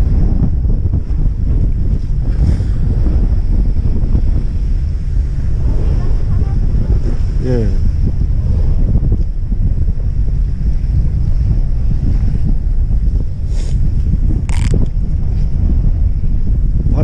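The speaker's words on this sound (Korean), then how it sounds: "바람이 너무 크게 터져서" Strong wind roars across a fishing boat at sea during a severe cold snap, with loud, constant buffeting against the microphone and wave wash beneath it, steady throughout the stretch.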